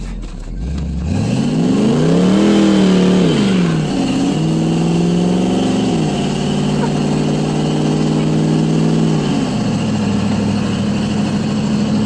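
A 1987 Toyota pickup fitted with a small-block Chevy 355 V8 and 700R4 transmission revs up loudly, pitch climbing and dropping, then settles into sustained acceleration through several rising engine tones, heard close from inside the cab.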